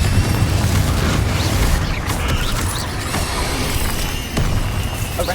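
A Confringo blasting spell from a Harry Potter video game booms out amid a dense, steady wash of loud magical combat effects, with the blast sitting low and heavy under the busy mix.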